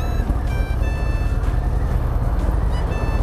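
A Harley-Davidson Fat Bob motorcycle riding another lap, with a steady, loud low engine rumble that holds throughout, and faint high tonal whines layered over it.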